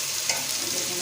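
Mash dal frying and being stirred in a pan, a steady close sizzle with a brief scrape of stirring, no voices.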